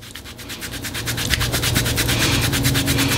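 A piece of gauze scrubbed hard back and forth over skin in a home tattoo-removal procedure gives a close, steady, rhythmic rasping rub of fast even strokes, growing slightly louder, with no talking.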